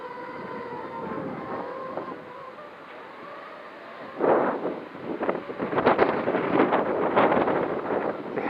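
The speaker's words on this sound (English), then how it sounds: "With that wind, oh my god, that's not flyable in that wind." Strong outdoor wind buffets the microphone in uneven gusts, a low rumbling roar that swells and thumps louder in the second half, with no voices present.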